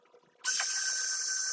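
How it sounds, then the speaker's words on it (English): Power drill boring a pilot hole with a 1/8-inch bit: after a brief quiet moment the drill starts abruptly and runs at a steady, loud, high whine to the end. "we're going to use an 1/8-inch bit for a pilot"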